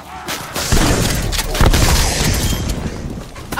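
A frag grenade explodes in Call of Duty: Black Ops Cold War with a loud, close, booming blast and rumbling aftermath amid gunfire and battle noise.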